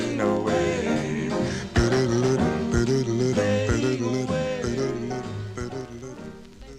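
A 1960 doo-wop 45 with vocal harmonies over a steady band backing, playing loud and continuous throughout.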